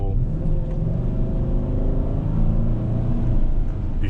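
A 2014 Chevrolet Silverado with a 5.3L V8 and a Superchips tuner pulls hard under acceleration, a deep steady engine drone heard from inside the cab, rising gradually with smooth gear changes and no talking.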